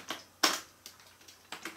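Someone types a command on a computer keyboard to launch a robot, producing a few quiet, separate keystrokes with a louder tap near the start.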